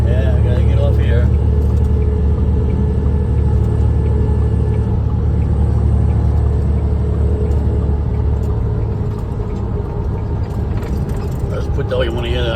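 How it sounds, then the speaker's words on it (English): Heavy truck engine rumbling steadily with its Jake brake engaged, a loud, continuous low drone as the rig slows, with a voice speaking over it. "I put this Jake brake on so I don't have to hit the brake."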